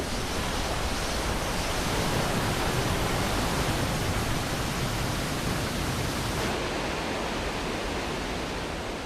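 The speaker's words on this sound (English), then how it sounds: "What most visitors see are Yosemite's towering waterfalls," Yosemite's towering waterfalls give a steady, dense roar of falling water, a broad unbroken rush that stays loud and even throughout, with no voices.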